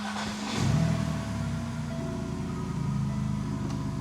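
The engine of a 27-year-old car cranks and catches, surging in a short rev before settling into a steady close idle hum.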